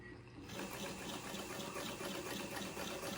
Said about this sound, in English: So we're going to start with a straight stitch. Okay, and see how well it sews.